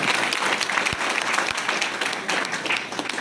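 An audience at a Vestige core team gathering in Basti applauds loudly for the speaker's mentor, a thick, sustained wash of clapping with crowd voices under it and a couple of low thumps.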